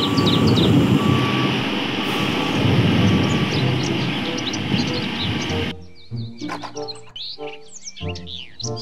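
A toy road roller whirs loudly and steadily with a high chirping reversing beep on top, then the motor stops and brief tonal sounds follow.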